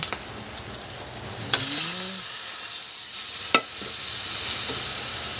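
Meat for Japanese ramen sizzles in a pan as it is stirred, with a constant bright hiss broken by a couple of sharp utensil scrapes and a brief faint vocal sound.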